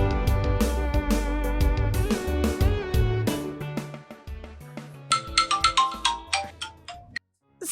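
Mobile phone ringtone playing a melodic electronic tune of repeated tones, loud and close for several seconds before cutting off abruptly, with no speech.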